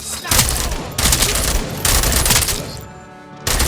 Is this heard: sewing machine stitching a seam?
no